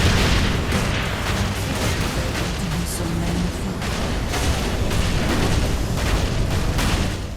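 Cannon and rocket fire in the video game Saints Row IV, a dense, continuous barrage of booms and bursts layered over a loud rumbling bed with no pauses.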